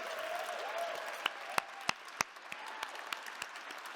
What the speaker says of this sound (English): This is your last huge applause for them.